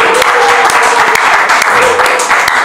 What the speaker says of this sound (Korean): 우리 박전도사님하고 우리 같이 한번 박수로 환영하도록 하겠습니다.